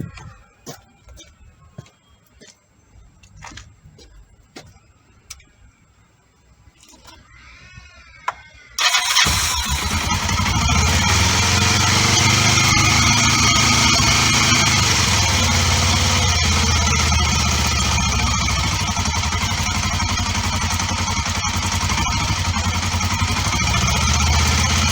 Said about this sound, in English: let's see if she fires up and run her up to temperature and check around for leaks